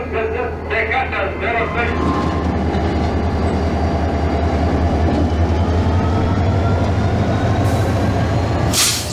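A mixed freight train on the Sahara desert line rumbles continuously at close range, with a steady low-frequency roar and faint rhythmic wheel clatter throughout, and a brief hiss near the end.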